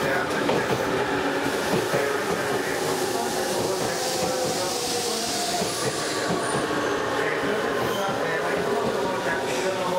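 A Tobu 100 series Spacia limited express train pulls into a station, its steady rolling rumble and wheel noise continuous and loud throughout, with faint station announcements in the background.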